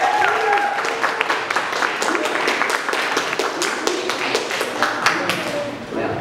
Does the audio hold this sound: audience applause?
yes